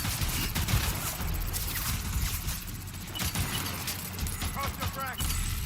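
Gunfire rattles in Death Stranding, a dense stream of close shots mixed with metallic clinks and pings, under shouted voices.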